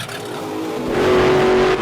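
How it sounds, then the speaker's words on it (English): A blown Hemi-powered VW Beetle races on a track, its engine rising in a loud, close snarl that swells and holds steady with tire noise, heard alone. "Today he's racing a young gun and his apprentice Kyle Grinder in his blown Hemi powered VW Beetle"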